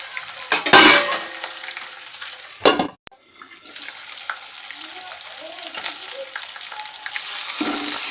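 Tomatoes added to a pan with a fish head and covered with a lid sizzle steadily, with a few sharp clatters and a bang of the lid near the start, then a constant frying hiss.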